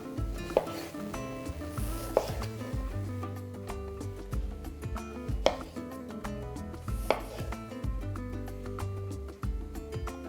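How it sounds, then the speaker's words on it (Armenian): Cherry tomatoes sliced into quarters with a knife on a board, a series of sharp chopping knocks at irregular intervals, close and clear, with soft scraping and clatter between cuts. "Ամեն լոլիկը կիսում ենք 4 մասի։"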